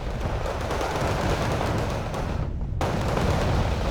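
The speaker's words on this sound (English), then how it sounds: "Artillery from both sides coming down." Continuous heavy artillery and gunfire from both sides in the real-time strategy game Wargame Red Dragon during a competitive tournament match, a dense rumbling barrage with no clear gaps, loud and sustained throughout.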